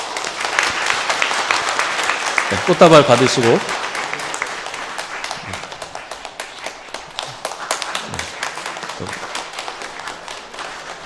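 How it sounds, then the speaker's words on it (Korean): A church congregation claps warmly during an Easter Sunday worship service, a dense sustained applause that gradually thins out, with someone speaking briefly over it. "우리 뜨거운 박수로 축하하겠습니다"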